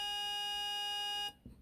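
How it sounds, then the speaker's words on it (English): A looped cowbell sample from a digital drum machine, heard as a sustained bright metallic tone that cuts off abruptly, followed by a brief faint thud. "It's a cowbell from a digital drum machine"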